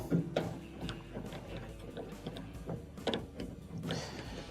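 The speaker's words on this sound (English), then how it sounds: "inside the top here, we have 2 Phillips screws that have to be taken out" Phillips screws being backed out of the top panel of a clothes dryer with a squealing, grinding bearing problem, giving soft repeated clicks and ratcheting metal scrapes close by, with no talking.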